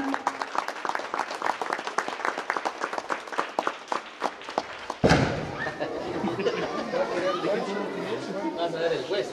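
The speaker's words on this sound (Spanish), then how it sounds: "Pedimos fuertes aplausos a todos los estudiantes de la escuela." Outdoors at a groundbreaking ceremony, a crowd claps loudly for school students in a burst of separate, sharp claps, then a sudden thump gives way to a dense wash of applause mixed with chatter and voices.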